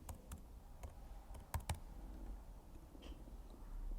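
Quiet, sparse keystrokes on a computer keyboard while a word is entered into a 3D design program, with a few scattered clicks and a quick pair of sharper taps, faint and close, with no speech.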